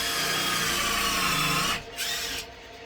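A power drill whirs steadily while driving into a 2x4 for a workbench, running loud and close for nearly two seconds, then cutting out briefly before a short second burst and a stop.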